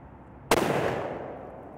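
A Mossberg Patriot rifle in 7 PRC fires one loud, close shot that cracks sharply and then trails into a decaying rumble outdoors.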